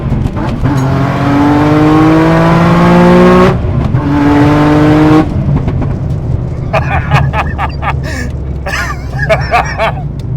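A 700 wheel horsepower Nissan 370Z with drag wheels and front skinnies accelerates hard, a loud rising engine roar that climbs through gears with a shift break, then fades as the car pulls away, leaving crackling pops.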